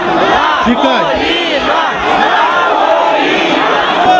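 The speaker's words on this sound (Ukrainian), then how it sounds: "Люди одноголосно починають скандувати." A large crowd shouts loudly and continuously, many voices merging into a dense, raucous roar that sounds like a collective chant.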